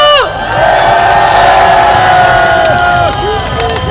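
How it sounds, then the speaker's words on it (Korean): A large crowd at a political rally roars and cheers continuously, loud and close, with whistles and whoops rising above the din. "다시 한번 뜨거운 박수 보내주십시오."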